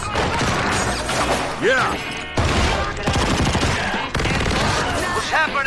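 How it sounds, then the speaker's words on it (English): Rapid bursts of automatic gunfire in the battle game PUBG, loud and dense throughout with brief pauses, while players talk over the shooting. "Are those shots?"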